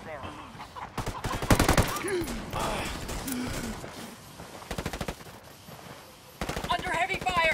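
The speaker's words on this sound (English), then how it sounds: "Under heavy fire." Video game battle gunfire in a cornfield: repeated loud bursts of rapid automatic shots in several clusters, interleaved with in-game voices speaking between the volleys.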